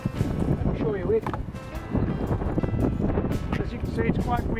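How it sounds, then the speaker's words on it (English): Wind blows steadily across an outdoor garden with raised beds, a constant rushing buffet against the microphone with faint knocks and a voice speaking under it. "As you can see, it's quite windy."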